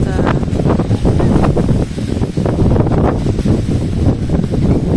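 Strong wind buffets the microphone with a steady low roar and rumble, continuous throughout, with gusty swells and faint voices underneath.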